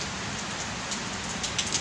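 Rain falls steadily outdoors as a dense, even hiss of drops that stays constant throughout, moderately loud with no voices.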